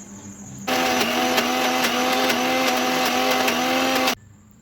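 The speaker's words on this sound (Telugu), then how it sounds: "నానబెట్టిన తర్వాత మిక్సీ వేసుకోవాలి." A kitchen mixer grinder whirs loudly through a batch of soaked urad dal for making ragi dosa, starting abruptly, holding a steady high-pitched grinding drone with faint rhythmic clicks for about three and a half seconds, then cutting off.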